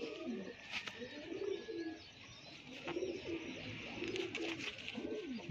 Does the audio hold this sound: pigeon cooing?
yes